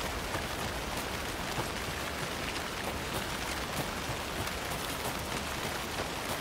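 Steady, dense rainfall in the video game Alan Wake 2, a constant hiss of drops pattering on surfaces that fills the whole stretch evenly with no speech.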